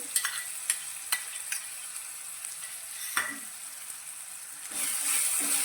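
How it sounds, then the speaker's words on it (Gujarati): Onion puree sautéing in a pan, a close sizzle broken by several sharp scrapes and clinks of a spoon stirring, the hiss swelling louder toward the end, with no talking. "હવે ડુંગળીને આપણે સારી રીતે સાતળવાની છે।"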